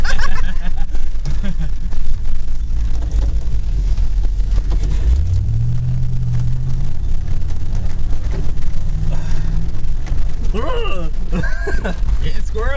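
A 1993 Ford Bronco engine drones low and steady while driving, with a brief rising rev in the middle, under cabin noise and talking voices.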